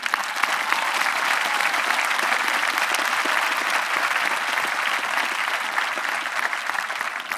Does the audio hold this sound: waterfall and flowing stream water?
no